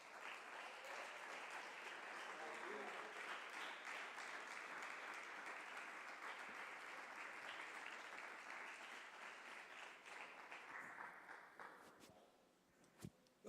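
Church congregation applauds in a worship service, a thick, continuous roar of clapping that stays loud for most of the stretch before thinning and fading out near the end.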